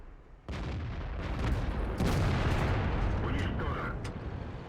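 Artillery gun firing in the video game World of Tanks, a sudden heavy blast that rolls into a long, loud rumbling roar, with a voice faintly underneath.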